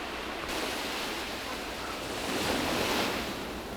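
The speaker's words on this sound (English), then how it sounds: "You can just listen to the waves." Ocean waves wash onto the shore at a beach resort in the video game Planet Coaster 2, a steady broad roar of surf that swells gently and carries on without speech.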